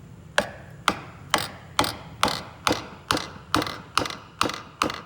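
A piston is tapped into its bore with the wooden end of a hammer, about ten sharp, evenly spaced knocks in a steady rhythm, close and clear with nothing else between them.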